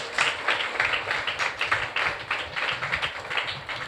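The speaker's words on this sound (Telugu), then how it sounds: "చప్పట్లు కొట్టాలి ప్రార్థన" A church congregation claps along during prayer, a steady, dense patter of many hands filling the room at a fairly even loud level throughout, with no voices standing out.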